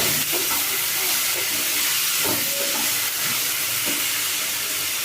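Cut potatoes hit hot oil in a pan and are stirred, giving a loud, continuous steamy sizzle and hiss with occasional scraping clinks of the spoon, no voices.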